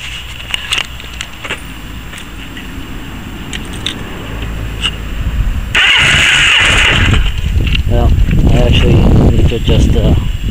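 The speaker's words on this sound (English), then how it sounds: "So now I'll fire it up." A Kawasaki KZ900 motorcycle engine cranks and fires up, then settles into a loud, steady idle with a slightly uneven rhythm, preceded by a few clicks and handling sounds and with a person speaking nearby.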